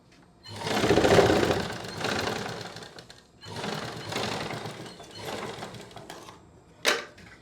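Sewing machine stitching a lining strip onto blouse fabric, running in two long bursts of steady rapid clatter with a short pause between, then a brief sharp click near the end; no talking.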